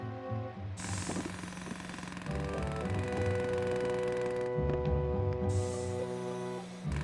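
An excavator's small chisel attachment hammers at an archaeological dig site in an animated model-railway setting, a steady rapid mechanical pounding that runs continuously and grows louder midway, with no voices.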